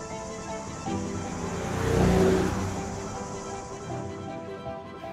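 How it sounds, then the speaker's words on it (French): A car passes by, its engine hum swelling to a peak midway and then fading off. "C'est quoi ce bruit? C'est une voiture courte!"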